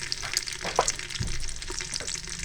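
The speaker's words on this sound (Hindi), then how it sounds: "ऑयल हमारा गर्म हो जाएगा, इस पे आगे हम इसमें प्याज शामिल कर देंगे।" Chopped onion fries in hot oil in a pot for rice, giving a close, busy sizzle with scattered pops and a few stirring clinks.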